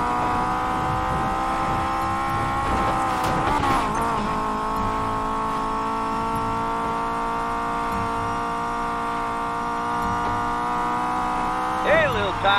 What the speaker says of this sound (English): Better hurry, engines are revving.